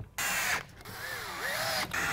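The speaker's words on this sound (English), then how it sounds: "so we're going to go ahead and load that in our screw gun" A screw gun drives connectors into a wooden planter box, a steady high mechanical whine with a rising and falling pitch sweep, broken by brief pauses, close and fairly loud.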